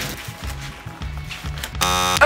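A timer buzzer goes off at the end of a timed fidget-shopping challenge, a loud steady electronic buzz that sets in abruptly near the end after quieter background sounds.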